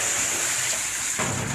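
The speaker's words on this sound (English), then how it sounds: "I'm going to just dump the water out of here." Water being dumped out of a dog-wash tub used with a microbubble machine, a brief, steady, close rushing pour with a sudden shift near the end.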